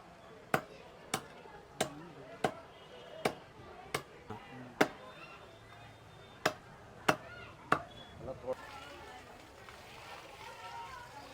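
A butcher chops meat into medium pieces for a feast, with about a dozen sharp cleaver strikes in an uneven, steady rhythm, close and clear, while voices murmur in the background.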